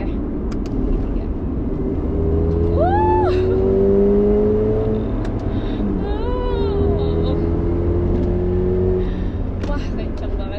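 A Mercedes-AMG GLA 35 4MATIC SUV accelerates hard, its engine note rising steadily and holding loud and close throughout, with tonal sweeps over a broad road and engine roar and no talk over it.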